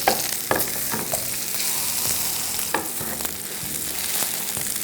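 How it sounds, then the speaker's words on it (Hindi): Chicken sizzles and fries steadily in butter and oil on a grill, a loud continuous crackle with occasional scraping and pressing knocks, no voices. "बटर और ऑयल में इसको आपको ग्रिल करना है।"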